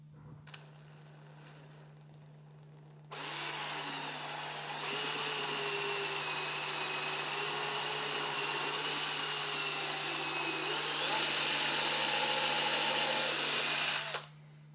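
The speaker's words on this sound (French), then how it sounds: "je préperce le bois afin qu'il ne se fende pas ou n'éclate pas lors du vissage" Power drill pre-drilling pilot holes in wood before screwing, to keep the boards from splitting while assembling a wooden cabinet box: a steady whining motor drone for about eleven seconds, rising slightly in pitch midway, close and alone.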